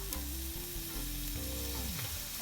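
An omelette frying in a pan, a continuous sizzle with soft crackling, close and steady, with a faint underlying hum.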